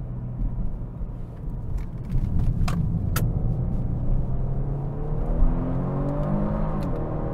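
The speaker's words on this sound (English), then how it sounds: "I eased into the pedal there and I could still feel those rear tires fighting for traction." A 2024 Genesis G70 3.3t accelerating through a turn, heard from the cabin as a steady low engine rumble that swells and climbs in pitch as the throttle opens, with a few faint clicks and no talking.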